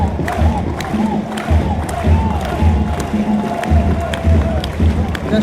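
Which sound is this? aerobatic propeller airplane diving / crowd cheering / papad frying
crowd cheering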